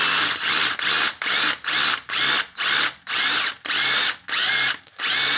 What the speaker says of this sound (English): now we're going to go ahead and drill this hole out